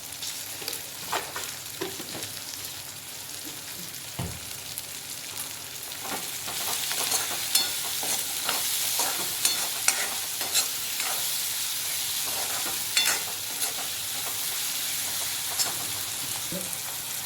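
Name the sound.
onions cooking in a pan with salt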